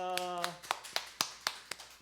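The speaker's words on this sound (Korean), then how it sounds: "우리 예수님께 영광의 박수 올려드리겠습니다" Sharp, evenly spaced claps in a church service, about seven crisp hits at a steady beat following a sung tone, fairly quiet and close.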